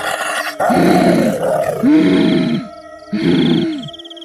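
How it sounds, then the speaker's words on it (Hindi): A witch in an animated story growls at prisoners, three loud throaty snarls in a row, each rising and falling, close and alone with no talk. "चुड़ैल उन कैदियों को देखकर गुर्राने लगती है।"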